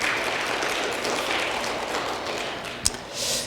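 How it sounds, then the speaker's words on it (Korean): A church congregation applauds during a worship service at a Methodist church, a steady, diffuse wash of clapping that carries evenly for a few seconds at moderate level, with a short sharp tap near the end. "다 같이 하나님께 박수 한번 더 올려드리겠습니다"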